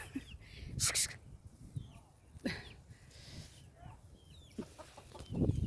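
Hens clucking in short, scattered calls close by, with a brief sharper squawk and some rustling in the background.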